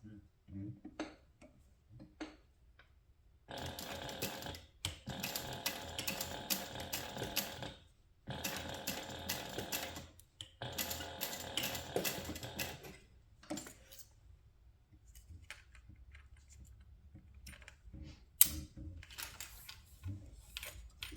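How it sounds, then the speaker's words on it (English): A sewing machine top stitching a pouch of sublimated fabric along a narrow seam: quiet mechanical whirring in several sustained runs separated by short pauses, fairly faint and close. "we're just going to top stitch these on using a 1/8 inch seam allowance"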